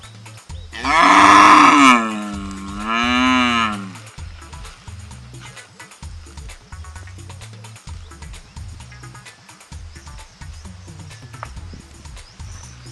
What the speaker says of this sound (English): Now here is where the cows graze